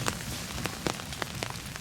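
Light rain falling outdoors, soft continuous patter with scattered distinct drop ticks, fairly quiet and close, no voices.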